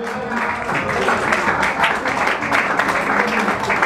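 A crowd applauds steadily, dense clapping filling the room without a break from start to finish.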